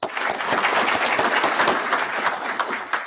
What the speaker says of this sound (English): please give me a brief round of applause for all your instructors and staff members